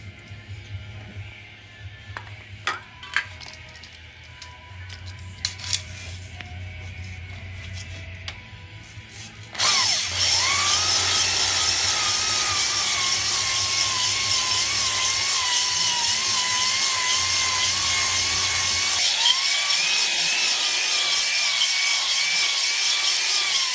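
A drill-driven hone works inside a cylinder of a 302 Windsor small-block Ford engine, a loud steady grinding whir that starts abruptly partway through after quieter scraping and clicks, then runs continuously to the end.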